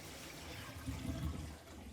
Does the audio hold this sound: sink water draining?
yes